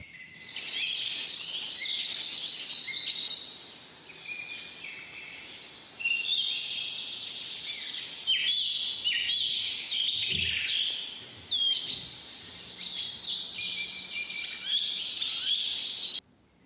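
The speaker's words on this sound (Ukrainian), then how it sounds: "я хочу запропонувати вам послухати пташиний спів" Birds sing continuously with bright, overlapping chirps and trills, fairly close, over a faint background hum.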